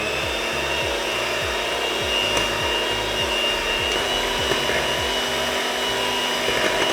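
An electric hand mixer whirs steadily up close, beating half a cup of sugar with half a cup of blueberry powder, its motor whine continuous and even with a low rhythmic churning throughout, and no talking.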